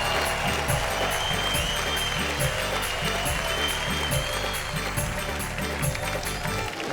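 Sustained audience applause at a Hindi stage poetry and comedy show, a dense, steady wash of clapping from a large crowd lasting several seconds without a break.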